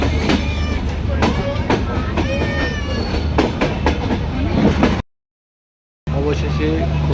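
Steady rumble and rattle of a moving train travelling to Khulna, Bangladesh, continuous and fairly loud, cutting out to silence for about a second before resuming.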